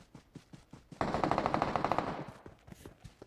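Rapid automatic gunfire in the mobile battle-royale game PUBG Mobile, a loud close burst of about a dozen shots lasting roughly a second, with softer scattered shots before and after.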